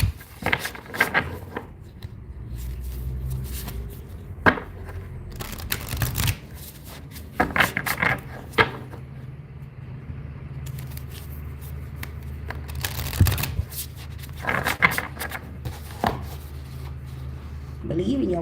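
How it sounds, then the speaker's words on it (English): A deck of cards riffled and shuffled several times up close, with crisp bursts and taps between them. "Let me shuffle these real quick."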